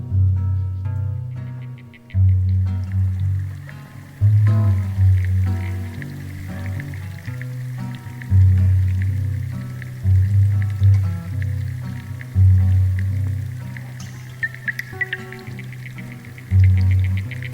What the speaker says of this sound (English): the first sound I'm going to play is the sound of insects stridulating